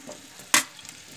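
Gatta dumplings drop into a pan of hot spices with turmeric and salt for a Rajasthani gatta pulao, making one sharp, brief sizzle against a quiet background.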